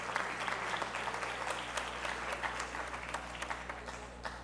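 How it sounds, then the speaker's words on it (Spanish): Sustained applause fills the National Assembly chamber in Venezuela, many hands clapping steadily at a dense, even level with a few sharper claps standing out, and no voices over it. "para quien pido un aplauso"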